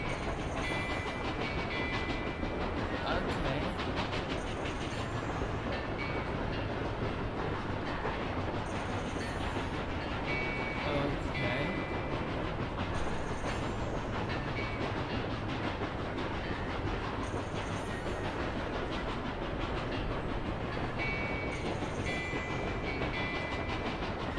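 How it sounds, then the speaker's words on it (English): A train rolls along the rails inside The Escapists 2 prison-escape game, a continuous loud rumble with faint rhythmic clatter throughout and no talk. "We're in a train."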